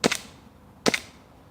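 A WE Desert Warrior M1911 airsoft pistol fires two sharp, close pops about a second apart, each ending in a short snap of the slide.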